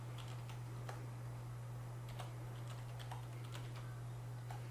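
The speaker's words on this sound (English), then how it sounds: "This is all you need to do is type in your IP address." A computer keyboard being typed on to enter an IP address for a Raspberry Pi TV box setup, faint irregular key taps spaced out over a steady low electrical hum.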